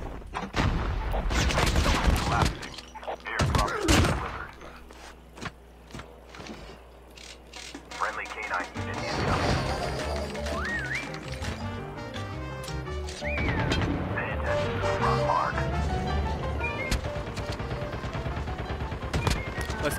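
Shotgun blasts in a video game land as sharp, loud bangs in a cluster early on, followed by quieter game clatter, mechanical clicks and background music, with a voice talking intermittently.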